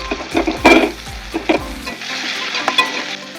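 Chopped onions sizzle and crackle in a hot pan as they are stirred, with scraping bursts of stirring over a steady frying hiss.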